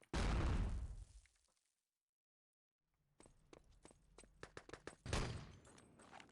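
A grenade goes off in a competitive 3v3 LAN match of a video game, a loud broadband blast that decays over about a second, followed by silence and then quick gunfire pops and a second burst.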